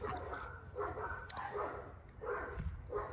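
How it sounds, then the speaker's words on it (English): Several dogs bark in bursts at a middle distance, a few loud yaps repeating across the span with brief gaps between them, and no voices over them. "Don't mind the dogs."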